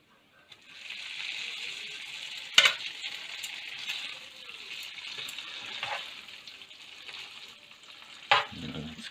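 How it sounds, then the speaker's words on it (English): Pasta tossed into a hot pan with Vegemite sauce sizzles and fries steadily, with two sharp clattering bursts as it is stirred and tossed. "I think now's a good time to throw some pasta in."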